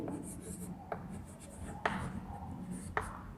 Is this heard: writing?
yes